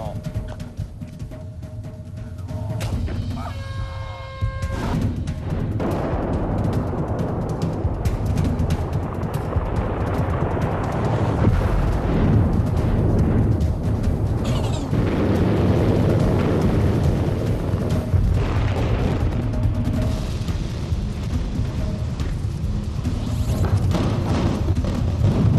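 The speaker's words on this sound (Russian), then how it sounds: "К взрыву готов!" A construction-site blasting charge goes off with a deep rumbling boom that swells after a quiet lead-in, then a long, loud, sustained roar of debris and rumble continues to the end.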